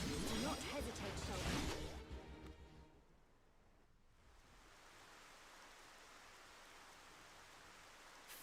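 Rain falls in the video game Xenoblade Chronicles: Future Connected as a steady, soft, even hiss, following a brief burst of music and game sounds at the start.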